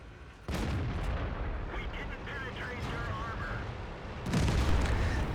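Tank cannon fire in a video game battle against a T-34, heard as a heavy boom near the start and another deep blast near the end, with rumbling engine noise and a voice talking throughout.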